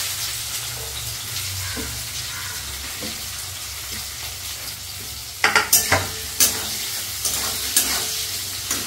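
Onions frying in hot oil with cumin and whole garam masala, a steady close sizzle throughout, joined near the end by several sharp clinks and scrapes of a spoon stirring against the pan.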